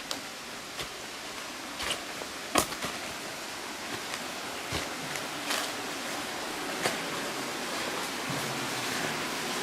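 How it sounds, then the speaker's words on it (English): Continuous rushing water echoes inside a coal mine opening at Kaymoor, New River Gorge, with scattered knocks and thumps over the steady wash. "Wow, listen to that water running in here."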